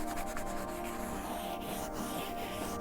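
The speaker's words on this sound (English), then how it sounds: "I think the combination of this scrubbing pad with M-Shine" Scrubbing pad worked over a beat-up Alcoa aluminum rim with foamy M-Shine aluminum wash, a steady, close, continuous abrasive rubbing with no pauses.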